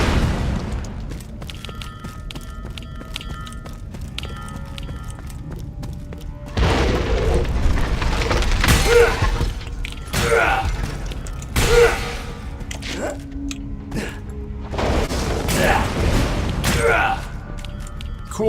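Explosions and gunfire bursts from the Borderlands 2 video game, a steady mechanical backdrop broken by several loud booming blasts in clusters, with voices talking over the action.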